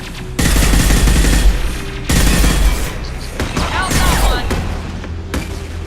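Loud, sustained turret fire from Mass Effect 2 rattles in long bursts broken by short gaps, with booming impacts and a synthetic voice speaking over the shooting.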